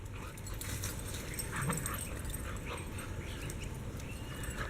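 Dogs whimper and yip softly in a brief, faint burst over a steady background hum.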